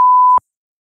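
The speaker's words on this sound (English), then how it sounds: "you're gonna put a beep, because YouTube doesn't like this word" A single loud, pure censor beep lasting under half a second, cutting off abruptly into silence.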